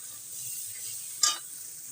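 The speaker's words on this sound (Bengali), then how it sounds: "এখন আমি এটা কষাবো। খুব ভালোভাবে কষাতে হবে" Vegetables and spices stir-fry in a pan for a katla fish head bhuna, a faint steady sizzle with a single sharp utensil clank against the pan midway.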